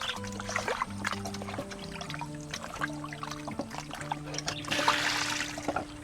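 Running water pours and trickles as food is rinsed for Filipino bilo-bilo, a steady close splashing stream with a brief louder gush near the end. Faint tones run underneath.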